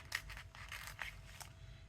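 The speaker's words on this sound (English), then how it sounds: "you can see how you can tear it along the edge" A paper napkin is torn by hand along its edge, giving a few short, soft rips in quiet close-up, with no talking.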